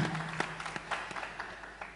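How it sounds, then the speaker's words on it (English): A seated audience applauds a conference presentation with a short burst of scattered clapping, moderately quiet and fading over a couple of seconds. "please give big applause to Jeff for his excellent presentation"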